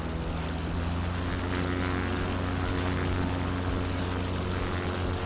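Propeller aircraft in Microsoft Flight Simulator 2020 passes by near Mount Rushmore, a steady droning engine hum with a constant tonal whine, moderately loud and alone throughout.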